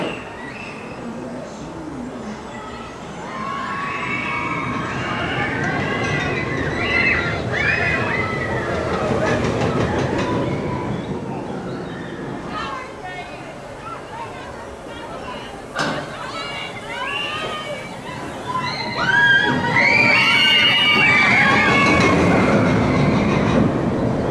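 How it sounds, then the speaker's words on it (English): The Dragon roller coaster at LEGOLAND Windsor rattles along its track with a rolling, clattering roar and wind rush, while riders talk and exclaim over the noise. "ride footage there from the Dragon roller coaster"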